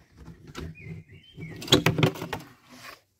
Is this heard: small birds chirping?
yes